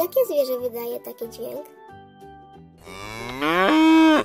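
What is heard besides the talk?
cow mooing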